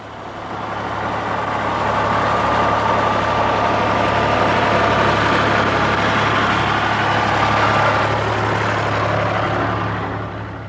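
A tractor towing a train of four bomb trolleys around a Lancaster bomber on a wartime airfield, a steady loud engine drone that holds throughout and fades slightly at the end, with no voices.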